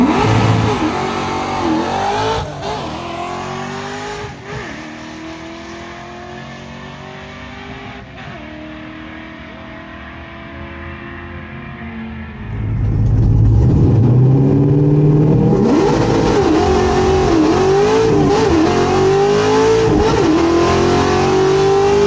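A 1968 Torino GT with a 302 engine and T5 manual gearbox accelerates hard on a test-and-tune drag strip pass, its loud engine rising in pitch through the gears with a sharp shift and renewed surge of revs.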